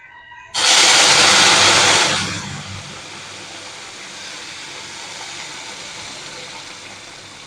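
Water poured slowly into rice frying in a pan, setting off a sudden loud hiss of sizzling steam that holds for over a second, then eases into a softer, steady bubbling sizzle.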